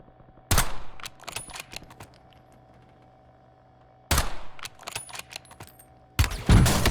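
Bursts of automatic gunfire in Call of Duty Warzone, three loud rapid volleys separated by quieter stretches of scattered shots and mechanical clicks, close and dominant with no voices.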